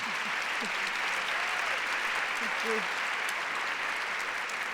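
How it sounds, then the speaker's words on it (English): Steady applause from an audience fills the room, with a few faint voices underneath. "a round of applause"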